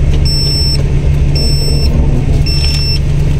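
A borrowed multicab mini truck's engine runs at a steady idle with a loud, close, continuous low rumble and faint high tones above it, with no voices.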